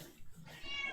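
A cat meows once in a short, plaintive, drawn-out cry, faint and close, with no other sound around it.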